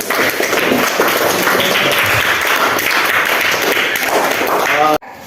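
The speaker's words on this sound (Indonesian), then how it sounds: "Kita berikan dulu aplaus kepada kelompok 1." Classroom applause for a student group after a presentation. A dense, loud burst of many hands clapping continues steadily, then stops abruptly near the end.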